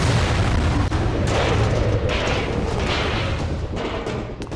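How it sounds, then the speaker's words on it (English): A sustained, roaring explosion rumbles loudly in a Minecraft Plants vs Zombies world, with a dense low boom that fades slowly over several seconds. "I heard the same explosion again"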